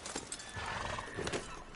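Horse hooves clip-clopping in a western-themed video game, a quick run of close, rhythmic hoof strikes against a busy background.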